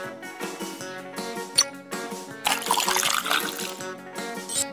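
Light trickling, bubbly water sound over tinkling game music in the kids' iPad game Kitty Birthday Party Time, as water is added while baking, with a brief brighter splashy pour in the middle; no voices.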